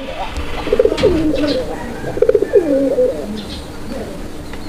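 Raj Golla pigeons coo in repeated rolling bursts at a pigeon market, close and clear, with a few brief chirps and a quiet background murmur.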